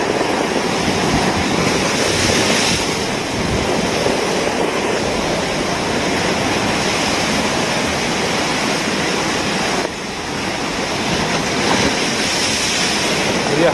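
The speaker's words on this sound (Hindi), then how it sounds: "किस कदर समुद्र का जो पानी है वो दरगाह के पास जा रहा है" Sea waves surge toward Haji Ali Dargah in Mumbai at high tide, a continuous loud roar of surf with wind buffeting the microphone and no clear talk.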